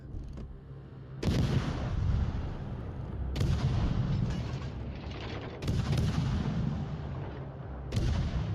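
Destroyer guns in the naval video game World of Warships Legends fire in sharp booming salvos, four heavy blasts spaced a couple of seconds apart, each trailing into a rumbling decay.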